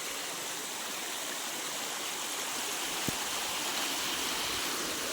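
Water from a field flowing in a small stream after rain, a steady broadband rush heard close and alone, with one brief knock near the middle.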